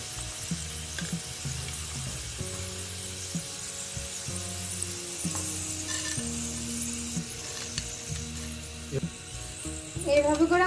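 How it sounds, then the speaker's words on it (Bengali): Lentils (dal) fry in hot oil for a crunchy spiced dalmut snack, giving a steady soft sizzle and bubbling under continuous talking, with a louder crackle at the end. "এইভাবে করে আমি সব ডালগুলো ভেজে নেব।"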